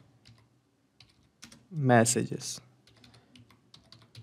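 Typing on a computer keyboard while entering a workflow name, with soft clicking keystrokes scattered through the clip and a person speaking briefly over them in the middle.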